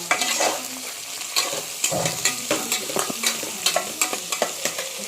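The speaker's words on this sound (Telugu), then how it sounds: "బెండకాయలు కూడా ఇందులో వేసేసేయండి. కరివేపాకు ఇది మొత్తం కొంచెం కలిసేటట్టు తిప్పండి ఒకసారి." Okra and curry leaves sizzle in a pan while a spoon stirs them, with repeated scraping knocks over a constant frying hiss, close and fairly loud.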